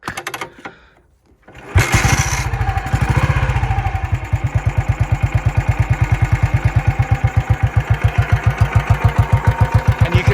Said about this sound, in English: adjust the tick over on these down to thud, thud, thud